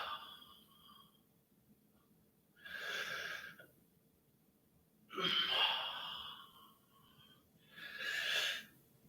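Three long, breathy exhales come at a slow, even pace during a stretching routine, each lasting about a second and close to the mic, with quiet pauses between them.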